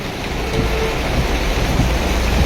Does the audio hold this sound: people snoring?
no